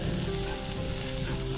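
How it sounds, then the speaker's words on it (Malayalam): Chopped ginger and garlic sautéing in hot oil for a homemade Schezwan sauce, a soft continuous sizzle and fry heard close up, fairly quiet and alone. "എന്നിട്ട് ഇതൊന്നും നമുക്ക് ഈ എണ്ണയിലിട്ടൊന്ന് വഴറ്റിയെടുക്കാം."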